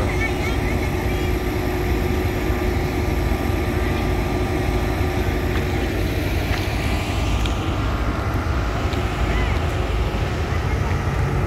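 A ship's engine drones steadily at sea, a loud continuous low rumble with tonal hum and wind noise running throughout, aboard a vessel carrying buses and rocking in big waves.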